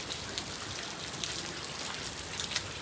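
Rain falls steadily in a continuous soft hiss, with scattered droplets pattering on surfaces, faint and close.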